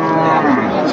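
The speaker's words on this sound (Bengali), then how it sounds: "মাংসের গরু।" Cow moos loudly and close at a livestock market for beef cattle, one sustained low bellow filling the whole moment with faint crowd noise beneath.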